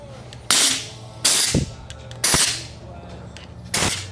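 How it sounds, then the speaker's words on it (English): An air gun blows bits of rubber and debris out of a two-stroke KX450F engine part in four sharp, close hissing blasts, each about half a second long, with short pauses between them in a quiet shop. "I'm gonna blow that out with air gun"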